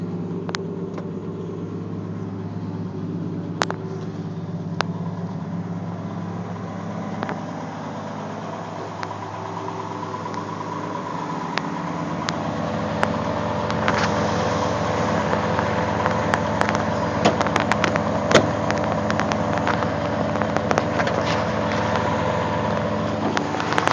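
Inline six engine of a 1965 AMC Rambler cold starting at -5 in winter, then settling into a steady idle that grows slightly louder and rougher, with a few sharp clicks over the running engine.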